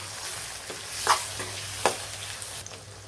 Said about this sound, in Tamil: அதெல்லாம் நல்லா வதங்கட்டும்